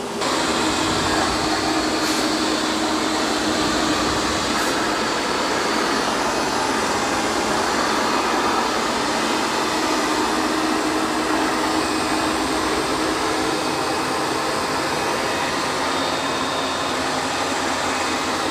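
A robot vacuum cleaning a rug marked with muddy paw prints, running as a loud, steady whirring drone of motor and suction that holds constant throughout, close by, with no talking.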